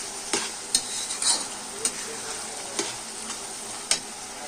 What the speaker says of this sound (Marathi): मस्त परतून घ्यायचं आहे भाज्यामध्ये